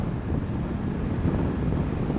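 Heavy, roaring wind buffets the microphone of a rider on a motorcycle along a highway, a constant low rumble with no pauses and no voices.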